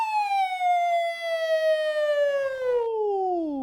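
Young performers imitate one long siren with their voices, a single sustained glide that holds high and then sweeps steadily downward, loud and close with nothing else behind it.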